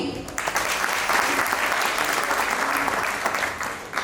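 Loud, sustained applause from a theatre audience at a religious stage play about Neminath Bhagwan in Gwalior, dense steady clapping filling the whole stretch before easing slightly at the end.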